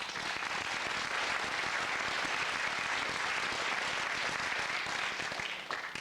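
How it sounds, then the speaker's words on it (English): A TV game-show studio audience applauds steadily and loudly throughout, a dense continuous wash of clapping with no talk over it, easing slightly at the end. "let's have another nice round of applause, please, for Matthew Kelly."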